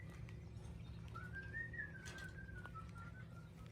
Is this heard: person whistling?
yes